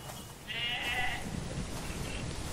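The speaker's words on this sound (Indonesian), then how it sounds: "Dia sedang memimpin kawanan domba, tapi dia masih agak jauh." A flock of sheep bleats at middle distance, with one long wavering bleat standing out above a steady outdoor rumble and fainter bleats that follow.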